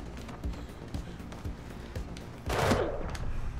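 Gunfire in the video game Mirror's Edge Catalyst: quick rattling shots crackle in a run, then a louder, harsher burst of fire near the end, with footsteps mixed in.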